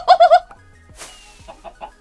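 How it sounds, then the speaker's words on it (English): Minecraft chickens cluck in a quick burst of three close, clear clucks, followed by a soft thud and a few fainter scattered clucks and small game sounds. "There's so many chickens"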